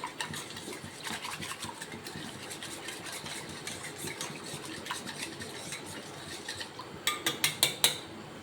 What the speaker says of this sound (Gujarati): હવે એને આપણે મિક્સ કરી દઈશું